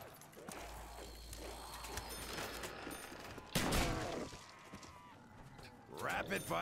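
Rapid gunfire crackles in bursts through a Call of Duty Zombies match, with mechanical clatter and a louder volley partway through, mixed with game noise and faint voices.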